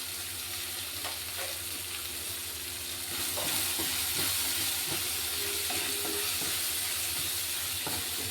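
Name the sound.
chapati pieces frying with turmeric and salt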